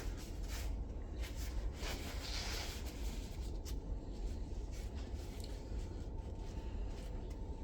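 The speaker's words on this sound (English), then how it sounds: "use a paper towel to spread that around." Paper towel smeared over a fat glob of grease on a bicycle bottom bracket area during a 2024 Esker Japhy build, a steady close scratchy rubbing and swishing that continues throughout, with no talk.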